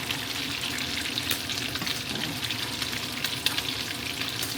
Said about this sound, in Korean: 이렇게 한 번씩 튀기는 애들이 있어 놀래게